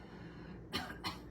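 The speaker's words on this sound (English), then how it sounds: "Give a few coughs here." Two short, quiet coughs in quick succession during a yoga class, against a soft, hushed background.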